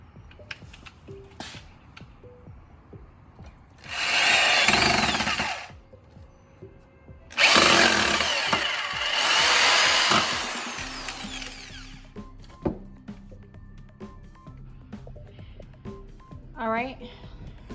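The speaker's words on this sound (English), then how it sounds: "All right, let's drill it." A power drill bores into a wooden 4x4 frame for a backyard chicken coop: one short loud burst, then a longer sustained run of drilling, with quieter handling clatter around them.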